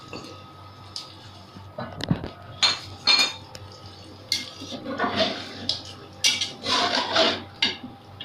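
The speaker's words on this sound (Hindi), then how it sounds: "और अब इस प्याज को हम इस वक्त इसमें शामिल कर रहे हैं।" Crushed fried onion going into a pot of simmering chicken qorma, with close metallic clinks and scrapes of a spoon against the pan over a soft liquid bubbling, in irregular bursts and without speech.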